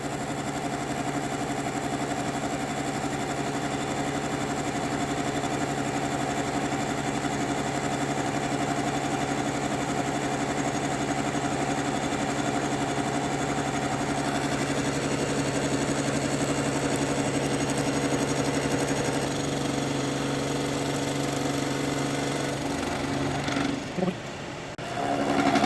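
A Bridgeport milling machine cuts a compound T-nut, its steady motor hum and cutter whine running loud and continuous with no talk, then slowing and stopping near the end.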